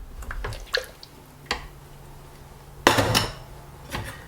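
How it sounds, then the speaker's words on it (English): A metal trivet is set into the bottom of a pressure cooker pot, giving a few light clinks and taps, then a louder metallic clatter as it settles, with faint wet dripping between. "I'm going to add the trivet that comes with your pressure cooker into the bottom"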